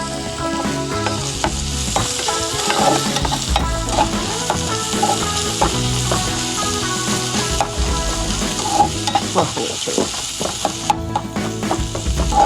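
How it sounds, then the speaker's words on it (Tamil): A spoon stirs moong lentils and fenugreek greens cooking in a pan. Scraping, clattering strokes repeat over a constant simmering sizzle, close and fairly loud, with no voices. "மறுபடியும் கொஞ்சம் கிளறி விட்டு நம்ம க்ளோஸ் பண்ணிவிடுவோம்"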